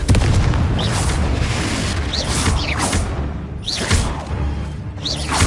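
A Confringo blast spell in Hogwarts Legacy on PS5, deep booming explosions and thuds repeating in quick succession amid combat clatter, loud and close, no voices.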